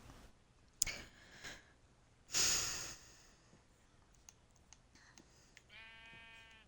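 A sheep in the video game Minecraft gives one short wavering bleat near the end, after a couple of brief breathy noise bursts against a quiet background.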